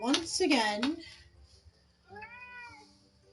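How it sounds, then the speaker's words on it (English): A pet cat gives a loud, drawn-out meow at close range, then a fainter second meow. A person speaks a few words in between. "there is my cat"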